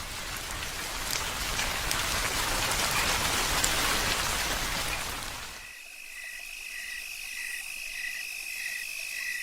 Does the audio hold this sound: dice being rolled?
no